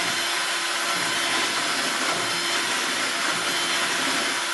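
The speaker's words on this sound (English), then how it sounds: "PawPaw uses his cordless drill to make cake." A cordless drill churns through homemade cake batter from scratch, giving a steady, dense whirring and scraping roar that continues without pause, with no talking.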